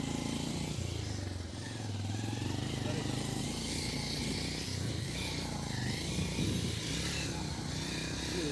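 A motorbike climbs a slippery hill road near Godawari and Phulchowki, its engine droning steadily and loudly throughout while people talk over it.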